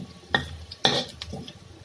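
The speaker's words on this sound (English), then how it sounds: "So they cook the garlic." Garlic cooks in a wok for fried rice, quiet, with a few sharp metallic clanks and scrapes of a utensil against the pan over a low sizzle.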